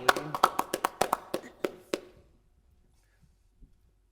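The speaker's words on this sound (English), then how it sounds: "Round of applause." A small group claps for a retiree, about a dozen distinct close claps in quick uneven rhythm for two seconds, then fading to near silence with a faint stray knock.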